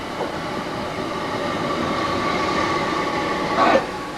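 A historic Scottish steam locomotive train rumbles steadily past near Kelvin Hall Station in Glasgow, with a constant rolling roar of wheels on track and a brief squeal near the end.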